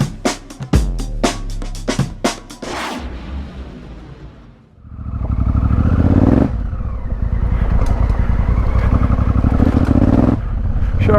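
A Honda Africa Twin motorcycle ridden off road: after a few sharp clunks and clatters, the engine starts and holds a loud, steady, close rumble with rising revs.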